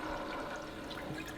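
Coolant is pumped into the cooling system of a four-rotor, all-wheel-drive Mazda RX-7, giving a steady, gurgling rush of liquid with no speech.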